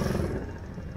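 A shifter race go-kart engine running, a rough mid-pitched buzzing drone with some clatter, steady and close for a brief moment without talk.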